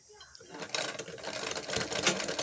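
A sewing machine runs steadily while stitching a woolen kurti, its rapid mechanical chatter starting after a brief quiet moment and continuing close and fairly loud to the end.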